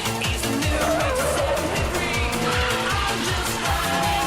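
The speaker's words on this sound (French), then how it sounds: "On entend juste qu'il lâche l'accélérateur, qu'il tourne et qu'il re-appuie sur l'accélérateur pour se laisser glisser." A drifting racing car's engine drones steadily under a busy music-like mix, its pitch rising and falling as the driver lifts off and reapplies the throttle through a long corner.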